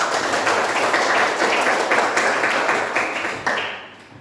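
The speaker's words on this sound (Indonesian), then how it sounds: "Tepuk tangan kita semua" Applause from a primary school classroom during a lesson, a steady burst of many small hands clapping together up close for about three seconds, then trailing off to a few scattered claps and silence.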